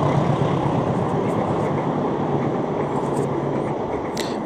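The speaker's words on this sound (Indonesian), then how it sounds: "Seperti yang nampak itu ada kereta yang sedang lewat." A train passes on a conventional railway line running alongside a steel bridge for the Jakarta–Bandung high-speed rail project, giving a steady, loud, continuous rumble with no pauses throughout.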